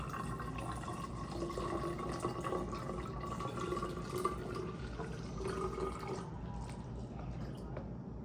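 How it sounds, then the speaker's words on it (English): Water being poured into a bottle for a home lava lamp experiment, a steady trickling fill with faint dripping, fairly quiet and continuous for several seconds. "add as much water as you think you need for your experiment"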